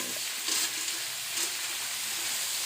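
Steady close sizzling of about 300 grams of chopped onions frying in oil in a pan, with a soft stir or two briefly lifting the hiss.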